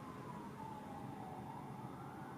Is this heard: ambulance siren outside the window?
yes